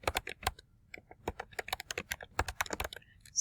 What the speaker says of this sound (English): I'm just going to start typing it in.